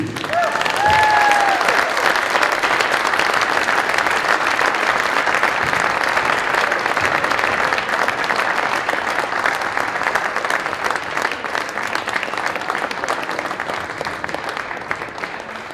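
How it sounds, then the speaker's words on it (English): A large audience applauds the inductees at a high school Hall of Fame induction ceremony, a loud, dense and sustained wash of clapping that continues steadily and only slightly thins toward the end. "please join me in one more round of applause"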